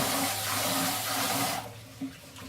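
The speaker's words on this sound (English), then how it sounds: "So you want to wash your rice in cold water, cool water, about 5 or 6 times until the water is coming off clear" Cool tap water runs steadily over rice being washed in a sink, a constant close splashing rush that drops away partway through, followed by quieter trickling and a brief slosh.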